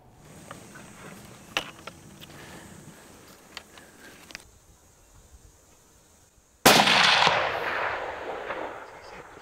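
A rifle shot rings out during an African kudu hunt, a single loud blast near the end that rolls on with a long echoing tail, preceded by quiet rustling outdoor sounds.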